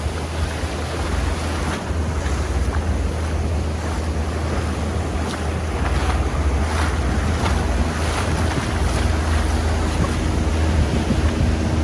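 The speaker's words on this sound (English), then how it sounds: "these waves are just crashing all over the rocks" Ocean waves crash continuously over the rocks at the opening of Ponce Inlet in New Smyrna Beach, Florida, a loud, steady surf roar with wind buffeting the microphone throughout.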